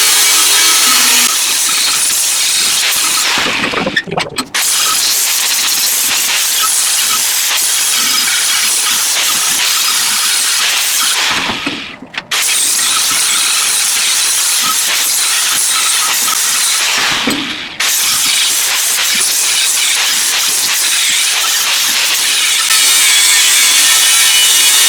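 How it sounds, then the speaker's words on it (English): A DeWalt angle grinder fitted with an 80 grit flap disc grinds rust off steel channel, a loud continuous abrasive hiss broken by three brief pauses as the disc lifts off the metal. "I've got an 80 grit flap disc on here. I'm just getting the rust off."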